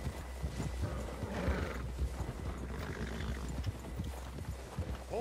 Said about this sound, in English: Oh no, it's just the horse.